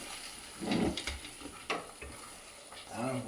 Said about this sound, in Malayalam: നെയ്യിലാണ് നാളികേരപ്പത്ത് വറക്കണത്